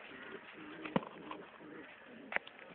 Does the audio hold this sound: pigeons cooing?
yes